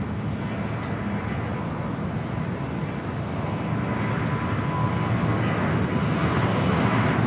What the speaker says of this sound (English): Next arrival is at Korean Air Cargo 777